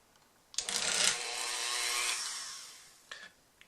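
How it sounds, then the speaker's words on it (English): A power drill bores into the plastic rotor of a 1983 G.I. Joe Cobra FANG toy, a steady high whirring grind lasting about two and a half seconds. It stops, then a short clack of handling follows. "press the drill into where you want first"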